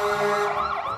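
A toy fire truck sounds its electronic siren, a loud, close wailing tone that rises and falls continuously through the short burst, with no talking over it.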